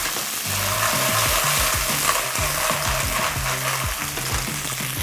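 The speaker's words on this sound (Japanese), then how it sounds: "さあ初めにあさりもこのフライパンでね炒めていきます。" Clams stir-fry in a frying pan with a steady, loud sizzle, punctuated by rhythmic low scrapes and knocks as they are tossed and stirred.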